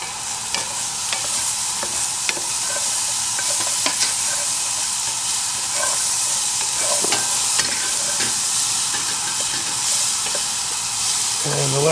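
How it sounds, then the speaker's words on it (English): Corn succotash with chickpeas being stirred in a hot camp pan with the heat just turned off, a steady close sizzle and hiss under scattered scraping taps of the spoon, continuous throughout. "the last stir, we're going to distribute that corn, and the heat from the pan will cook that corn"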